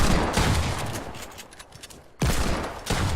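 Rapid bursts of gunfire in a shooter video game, loud and close, with a brief lull before another sharp volley, no talk over it.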